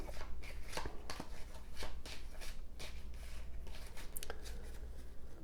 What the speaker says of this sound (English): you're going to shuffle them up